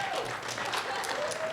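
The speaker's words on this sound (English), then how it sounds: "You can applaud." Brief applause from an audience at a student movie film festival and awards event held at a college, a short burst of steady clapping at moderate volume, with a voice faintly present.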